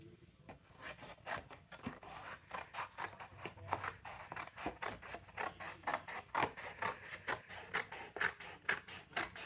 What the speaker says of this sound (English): cut the paper down.